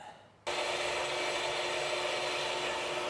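A knife billet is sawn into three pieces. After a brief quiet start, a loud steady rasping saw noise begins suddenly and continues without a break.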